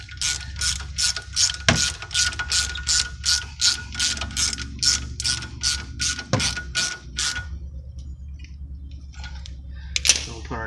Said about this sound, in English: then you can stick your ratchet up there